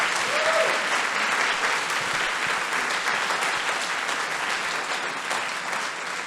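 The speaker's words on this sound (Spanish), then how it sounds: "Date un aplauso a ti." A church congregation claps together in a sustained burst of applause, dense and even throughout, with no voices standing out.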